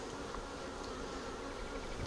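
Honey bees buzz around an open hive, where a heavy hive box is being lifted, in a dense continuous drone that stays close and steady with no voices.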